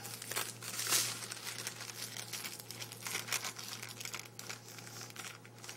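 Parchment paper folded and crinkled tightly around sole for baking, giving close, continuous crackling and crumpling with a few sharper rustles, fairly quiet.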